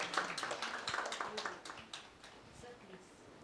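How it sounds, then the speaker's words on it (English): Scattered hand clapping from a conference audience, at an Indo-Israel meeting on women in agriculture, sounds faint and distant, thinning out toward the end. "We all can give a wholehearted applause for this team"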